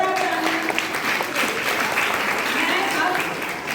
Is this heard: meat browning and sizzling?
no